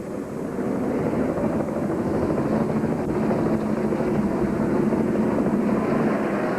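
A camera helicopter flies over the 2000 Goody's Body Pain 500 NASCAR race at Martinsville Speedway, a steady, loud rotor and engine roar that stays even and continuous throughout, with no voices.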